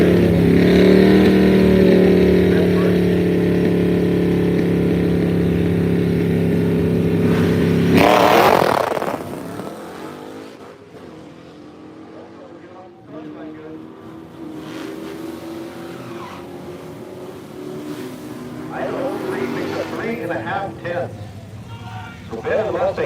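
American-flag Camaro and a convertible Mustang launching side by side on a dragstrip, loud revving engines with a tonal drone that cuts off abruptly after eight seconds, followed by quieter distant engine noise rising again toward the end.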